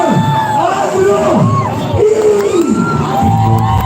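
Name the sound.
crowd clapping and cheering for Mr. Andrew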